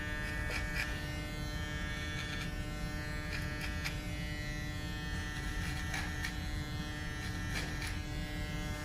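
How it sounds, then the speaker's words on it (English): A powerful magnetic hair clipper cutting thick hair, giving a continuous close, steady electric buzz with faint clicking bursts as the blades pass through the hair. "It's a magnetic clipper. It's very powerful, very fast, and very quiet."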